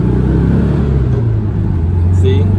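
A 1967 Volkswagen Beetle engine pulls out onto the road and accelerates, giving a loud, close, steady low rumble with rising revs throughout.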